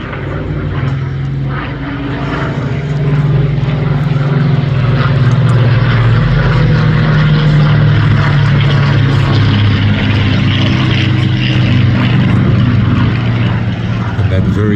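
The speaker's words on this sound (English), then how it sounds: "Very distinctive sound of the Mark 19 Griffin engine as the Lancaster flies through again." Avro Lancaster bomber with Mark 19 Griffon piston engines flying past at an air festival, a loud, deep droning roar that swells and holds steady, with faint talk in the background.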